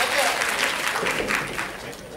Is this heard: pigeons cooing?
no